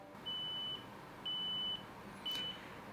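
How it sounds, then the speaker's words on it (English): Three evenly spaced high-pitched electronic beeps from Edifier ES850NB ANC headphones' locator sound clearly over a faint background hiss. "We could use Find My Product, it's going to play a beep."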